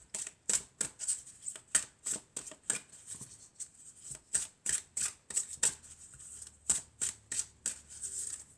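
Tarot cards being shuffled by hand, a rapid series of crisp riffling flicks and soft slaps in an even rhythm, close and fairly quiet, with no voice over it.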